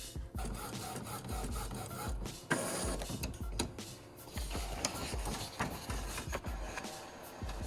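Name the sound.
printer printing design onto heat transfer paper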